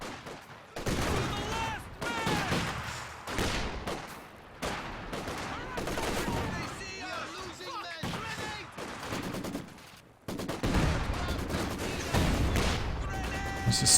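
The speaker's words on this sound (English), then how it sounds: "I only hear PTRS is firing there." Gunfire from a PTRS anti-tank rifle and infantry weapons in the strategy video game Company of Heroes 2, loud bursts of shots and battle noise coming in waves throughout, with someone talking over them at times.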